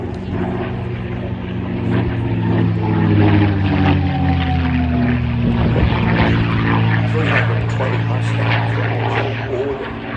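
A North American Mustang fitted with a Rolls-Royce Merlin engine flies at an air festival, its deep propeller drone rumbling and shifting in pitch at a moderate distance under steady commentary over a public address.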